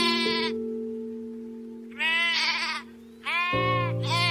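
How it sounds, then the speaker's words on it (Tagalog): Sheep bleating in several distinct calls, loud and close, with pauses between them over a faint steady hum. "Nakita ko na yung nangangalang tupa."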